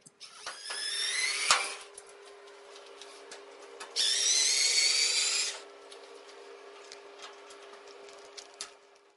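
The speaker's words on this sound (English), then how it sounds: "Just remove the 4 screws." A power screwdriver whines in two bursts while backing screws out of a top bracket on an LG dryer, close and fairly loud, with a steady mains hum and light ticking of parts between runs.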